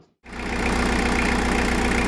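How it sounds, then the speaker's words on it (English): A Peugeot 306 XUD turbo diesel with a suspected blown head gasket idles loud and close, starting up abruptly after a brief hush and then clattering steadily with a rough, even diesel knock. "you'll have to excuse how loud this is because of the engine ticking over"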